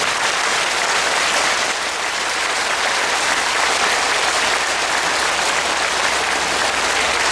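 A large crowd at a spiritual meditation gathering claps continuously and loudly, a dense, even wash of applause that holds steady for several seconds.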